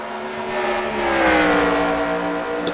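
Race cars roar along a road course, their engines whining with rising, sweeping tones as they pass close by, loud and continuous.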